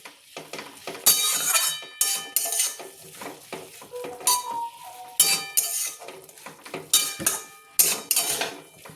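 Spoon scraping and clinking against a pan while drumstick flowers (sajne phul) are stirred for a village-style chhechki, a string of sharp metallic strokes in irregular rhythm, close and fairly loud, with no talking.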